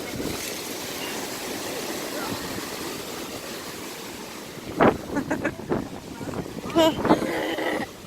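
Steady rush of surf and wind, then several loud splashes of Lake Michigan waves crashing against a lakeside wall, with voices talking nearby.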